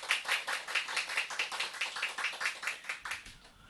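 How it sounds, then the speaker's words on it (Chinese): Audience members clap together after a Buddhist lecture, producing a quick, even train of claps at a steady rhythm, faint and distant, tapering off near the end. "我们大家一起鼓掌，感谢那个副居士"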